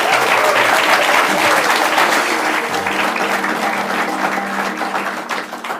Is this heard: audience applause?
yes